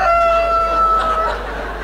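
A chicken clucks and crows in a comedy radio sketch, the bird sound running steadily and fairly loud through the short stretch with no talk over it.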